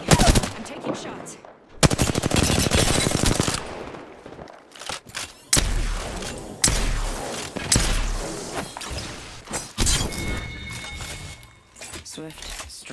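Bursts of automatic gunfire and sharp impacts crackle through an Apex Legends-style shooter game, loud and close, with brief whooshes and pauses between volleys.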